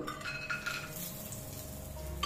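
Cashews being stirred as they fry in a pan, with a spoon scraping and clinking against the metal over a soft steady sizzle, close and continuous for a couple of seconds.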